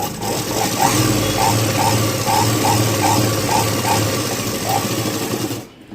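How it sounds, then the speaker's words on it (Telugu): A sewing machine stitches a blouse with a fast, even, whirring rhythm of needle strokes, loud and close, running steadily before stopping abruptly at the end. "ఈ విధంగా లోపల చూడండి ఏ విధంగా స్టిచ్ చేస్తున్నానో అదే విధంగానే మీరు కూడా స్టిచ్ చేసుకోండి"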